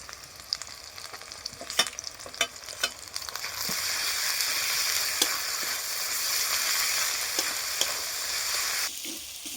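Ground ginger-garlic paste drops into a hot pan and frying jumps to a loud, steady sizzle with scattered spatula clicks and scrapes; an earlier quieter crackle builds up first, and there is no talking.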